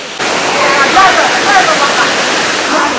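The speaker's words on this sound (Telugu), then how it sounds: "ఇదంతా వాటర్ ఫాల్ అనమాట" Mettuguda waterfall in a rocky valley roars close and loud as a dense, steady rush of falling water, filling the whole stretch without letup.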